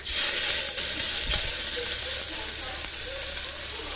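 A beetroot and onion mixture fries in a pan of crackling cumin seeds over low heat, giving a loud, steady, close hiss and sizzle with light stirring noise underneath.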